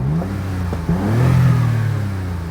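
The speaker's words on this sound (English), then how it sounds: "And there it is, a little 3-cylinder engine." A Smart Roadster's small three-cylinder engine revs, its low drone rising and settling in pitch, steady and close, with a gusty wind rush underneath.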